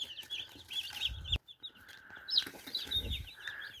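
Chickens clucking and peeping steadily, with small chicks chirping in high bursts and a few louder hen calls close by.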